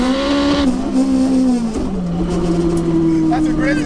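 A turbocharged all-wheel-drive Honda Integra DC5 Type R with a sequential gearbox launches hard, its engine note climbing loud and close, then dropping sharply at a quick shift before pulling up again.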